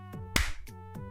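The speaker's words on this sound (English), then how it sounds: "I'm gonna clap." A single sharp hand clap cracks out once, brief and fairly close, set against a faint repeating tonal hum in the background.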